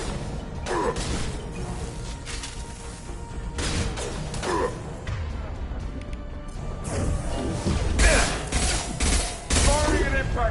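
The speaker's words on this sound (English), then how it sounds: "Firing an impact shot!" Weapon fire and crashing impacts in the sci-fi shooter Mass Effect 2, several sharp bursts and clanks spread through a busy battle mix, moderately loud with whooshes between.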